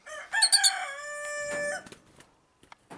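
A rooster with a hoarse, cold-like voice crows once nearby, a strained cock-a-doodle-doo lasting about a second and a half, followed by a few faint clucks and bird sounds in a quiet setting.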